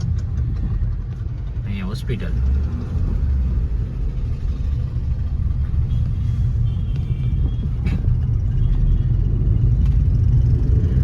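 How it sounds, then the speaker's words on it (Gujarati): Heavy road traffic in Junagadh heard from inside a moving vehicle: a continuous low engine and road rumble with a passing horn, under someone speaking briefly. "ટ્રાફિક બહુ છે"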